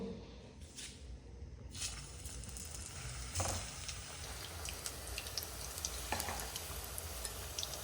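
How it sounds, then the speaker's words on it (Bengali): Pitha rice cakes frying in oil in a pan over low heat, a steady soft sizzle with a few faint crackles and clinks, continuous throughout with no talk. "এই যে এবার এই পিঠেগুলো ভেজে নেব"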